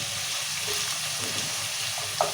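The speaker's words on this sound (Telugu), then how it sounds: "ఇక కొత్తిమీర సన్నం దానికి పెట్టుకుని కొత్తిమీర ఇవన్నీ నూనెలో మంచిగా మగ్గాలి" Onions, tomatoes, green chilies and coriander sautéing in oil for rava upma, a steady close sizzle of frying with a faint stir near the end.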